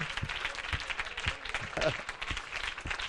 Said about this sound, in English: Let us clap the hands.